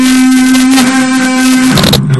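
An electric guitar plays a sweep-picked arpeggio, with a loud, sustained, bright note held for most of the clip before it shifts to lower notes near the end.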